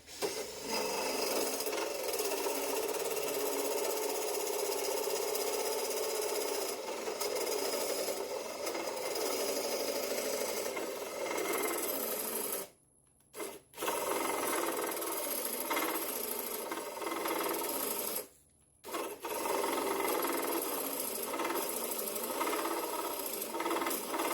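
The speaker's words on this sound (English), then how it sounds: "we'll start boring the hole right here, and we'll start going in" A hand drill bores a pilot hole into a metal shaft, grinding continuously at close range and stopping abruptly twice before resuming.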